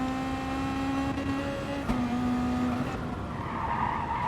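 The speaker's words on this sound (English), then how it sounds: "Just listen to that tire scream for help." Race car tires squealing under hard cornering in an online sim racing league race, a sustained high tire scream over a steady engine drone that fades toward the end.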